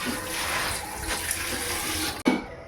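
Ingredients are washed under a running tap, and the water flows in a steady stream. Near the end it cuts off abruptly with a short bump.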